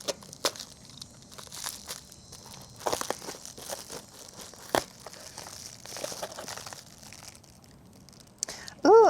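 Packing tape tugged and peeled off a plant-mail parcel, with crinkly tearing and crackling bursts across several seconds, close and moderately loud, plus scattered handling rustles.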